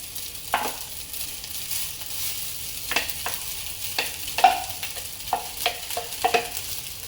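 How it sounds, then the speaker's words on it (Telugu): Boiled rice being stirred with masala in a pan for egg pulao, giving soft scraping and stirring strokes over a low frying sizzle, with several sharper spoon knocks against the pan. "మంచిగా మసాలాలు పట్టే వరకు కలుపుకోవాలి"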